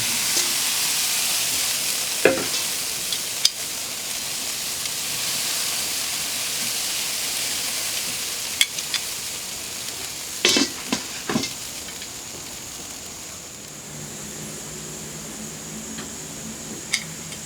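Fries sizzle steadily on a 17-inch Blackstone griddle, a constant bright frying hiss with a few sharp ticks and clinks scattered through.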